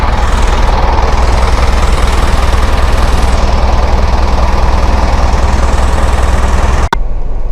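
A loud Hino FC9J 210 hp six-wheel diesel truck engine runs steadily close by, a rough continuous rumble that cuts off abruptly near the end.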